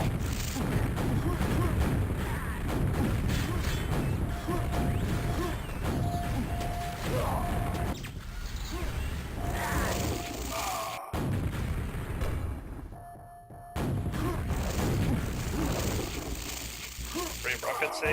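QuakeWorld deathmatch combat with rocket fire and explosions, a near-continuous barrage of booms and blasts, loud and dense across the stretch with brief lulls, a commentator speaking over it.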